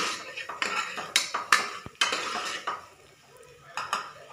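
Spoon stirring cinnamon, fennel, cloves, cardamom and onion as they sauté in a pan for a radish gravy, with repeated close clinks and scrapes of metal on the pan in an uneven rhythm over a faint sizzle.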